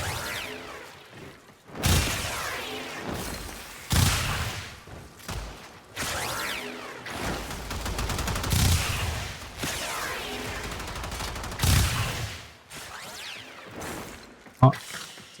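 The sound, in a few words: Dual Toxocyst pistols firing in video game Warframe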